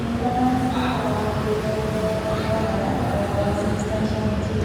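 A busy train station in Jakarta carries a steady rumble of rail traffic and crowd noise, with faint tonal hums and squeals over a continuous low roar.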